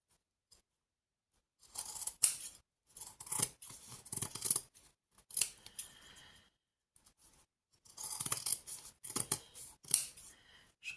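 Scissors trimming the edges of a junk journal cover in several short bursts of crisp snipping, close and clear, separated by brief quiet pauses.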